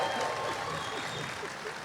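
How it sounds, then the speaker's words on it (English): Audience applause at a live Q&A event, a steady wash of clapping from a crowd that holds at an even level throughout, with no distinct voices standing out. "Pause for applause."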